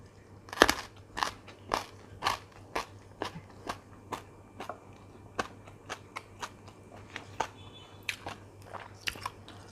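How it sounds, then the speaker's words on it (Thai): Crunchy pickled daikon radish being bitten and chewed close up: sharp, crisp crunches repeat at an uneven chewing rhythm, loud against a quiet, low hum, with no talking. "อันนี้มันจะกรอบค่ะ กรอบแบบต้องคนฟันดี ๆ หน่อยนะ"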